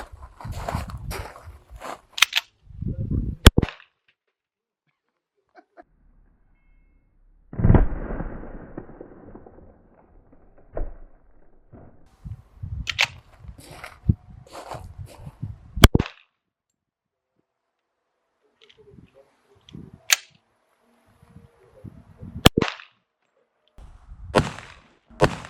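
A CZ 97B pistol fires .45 ACP full metal jacket rounds at a level IIIA bulletproof vest outdoors, sharp loud gunshots spaced irregularly with quiet gaps and some handling noise between.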